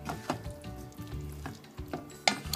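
Canned pink salmon stirred into potatoes and eggplant in a pan for curry over low heat, soft frying sizzle under scattered scraping and clinking mixing strokes, fairly quiet and close.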